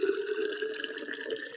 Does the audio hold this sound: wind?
no